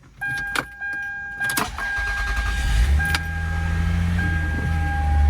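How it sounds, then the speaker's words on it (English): A few clicks and a door-chime tone, then a 2003 Toyota Avalon engine turns over on a cold start, rising to a steady idle rumble that holds through the end. "Let's do a cold start."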